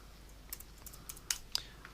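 Typing on a computer keyboard, a few quiet, close key clicks scattered over a couple of seconds, with two sharper taps standing out.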